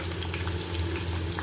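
Onions sizzle steadily as they sauté in a pan for soybean chukka, a continuous close frying hiss with no talking.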